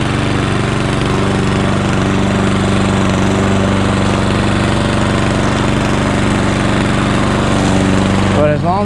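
A cheap Chinese remote-control lawn mower drives up a steep incline, its engine droning loud and steady with a strong low rumble and harmonic whine, close and continuous to the end.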